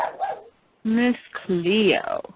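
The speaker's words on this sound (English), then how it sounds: "please excuse my dog." A small dog barks and whimpers in short, close bursts, mixed in with someone talking during a live radio tarot reading.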